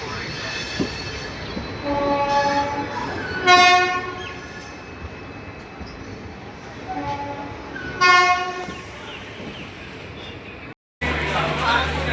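A train at Puri railway station sounds its horn in a few short repeated blasts over steady rail and platform rumble, with a brief cut near the end.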